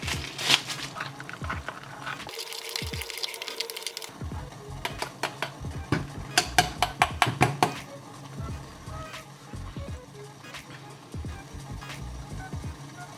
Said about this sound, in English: Let's give it a quick little stir.